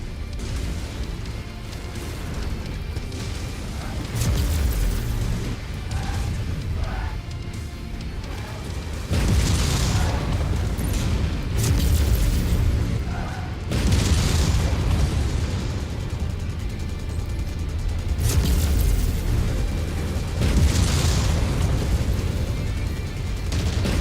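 A battlemech blows apart from a reactor breach in MechWarrior 5: Mercenaries, heavy booming blasts and rumbling bursts recurring through a loud, dense battle din.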